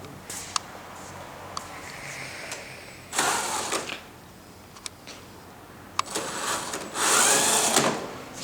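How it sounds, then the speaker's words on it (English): A small combat robot driven by cordless-drill motors whirs in short bursts, high-pitched motor whines rising and stopping, with faint clicks between runs at an indoor robot competition. "It runs around as well, same drill motors."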